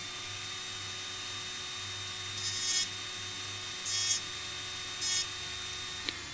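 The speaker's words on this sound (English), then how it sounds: "these small diamond tipped balls, you can literally draw lines which are finer than a hair" A rotary tool fitted with a small diamond-tipped ball bit engraves a glass coffee jar, giving three short high-pitched grinding bursts separated by pauses over a steady low hum.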